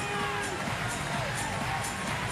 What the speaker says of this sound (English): Crowd getting very excited here.